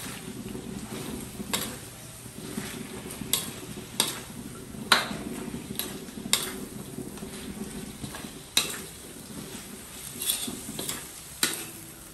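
String beans, okra and bitter gourd are stirred in a pot, with repeated scraping and clanking strokes at an irregular rhythm over a soft simmering sizzle, close and with no talking.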